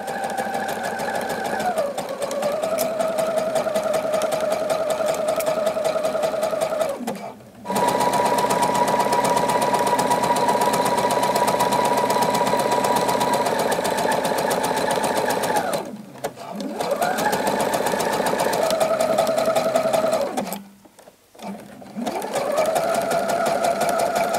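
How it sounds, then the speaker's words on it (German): A sewing machine runs in long steady bursts, zigzag-stitching elastic piping onto the underbust band of handmade lingerie, with two brief pauses between runs and no voices. "Das Paspelgummi näht sie mit einem einfachen und einem dreifachen Zickzackstich an den unteren Teil des Unterbrustbands."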